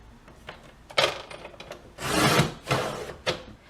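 Thick chipboard for an 8 x 8 mini album being cut to size with a trimmer, giving soft scraping and rubbing strokes with a few sharper bumps, close and fairly quiet, with no talking.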